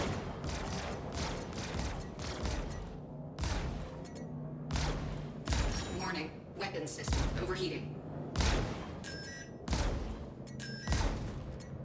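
Laser scattergun fire from an Anvil F7C Hornet Wildfire in the space combat game Star Citizen: rapid bursts of broadband blasts in clustered volleys over a steady low engine drone, loud and close throughout.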